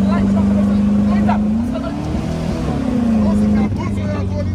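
Engine of a convertible Volkswagen Beetle revs up loud and close as the throttle is pressed, a steady drone that rises in pitch and then settles, with people talking over it.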